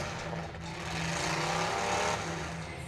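Demolition derby car engine running rough and loud, misfiring as if several plug wires are off and down to six cylinders, a steady ragged drone throughout with no talking.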